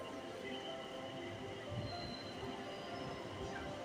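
An electric skytrain in Thailand runs along its track with a steady, even rumble and a faint metallic whine over it. No one speaks.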